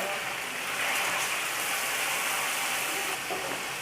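Chicken sautés in hot oil with garlic for kolhapuri karhi, giving a steady, dense crackling sizzle that stays even from start to finish.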